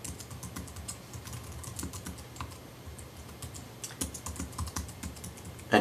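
Someone types an email address on a computer keyboard in a quiet room, a close, steady run of soft key clicks with a few louder taps and no voices.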